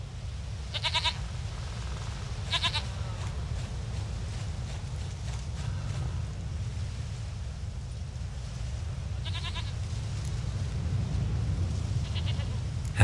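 A goat bleating in The Witcher 3: Wild Hunt, several short, wavering bleats spaced across the clip over a steady low ambient rumble, with no one talking.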